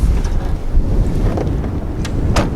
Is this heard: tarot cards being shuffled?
no